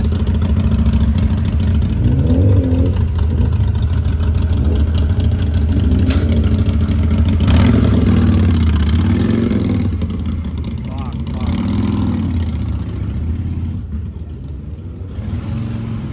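A superbike exhaust rumbles loudly nearby and revs up and down, with voices talking underneath the engine noise.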